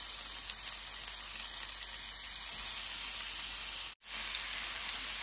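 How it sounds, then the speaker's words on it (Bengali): Chicken shashlik pieces frying in hot oil on a grill pan give a steady, loud, hissing sizzle that goes on without a break, apart from one brief cut near the end. "তেল গরম হয়ে গেছে, এখন আমি এক এক করে দিয়ে দিব।"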